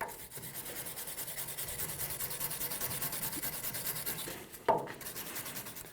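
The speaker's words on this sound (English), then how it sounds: "Using a wire brush, we're going to clean inside of where the ball joint sat." A wire brush scrubs inside the ball joint seat on a Toyota Tacoma lower control arm, a steady, close, raspy scratching that runs continuously with a sharper scrape near the end.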